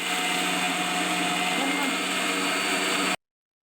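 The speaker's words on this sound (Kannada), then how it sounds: "ಮಿಕ್ಸಿ ಮಾಡೋಕಿದ್ನ" A kitchen mixer grinder whirs as it grinds white and black sesame seeds with a little water, a loud, steady motor drone that runs for about three seconds and then cuts off abruptly into silence.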